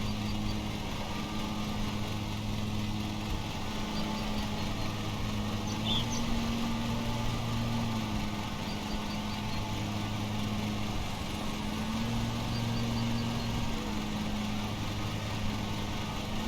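In the Lawn Mowing Simulator video game, the engine of the starter lawnmower runs steadily at a low, droning idle, with its pitch rising and falling slightly in a slow repeating cycle; no one talks over it.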